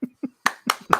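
A single person claps five times in quick succession, the first two soft and the last three sharper and louder, close and dry.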